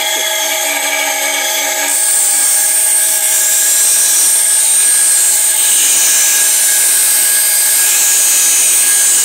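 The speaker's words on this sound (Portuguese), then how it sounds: "Deixa eu só ligar o esmeril aqui." A bench grinder switches on and spins up to a loud, steady high whine that holds on at full speed for several seconds, close by and with no talk.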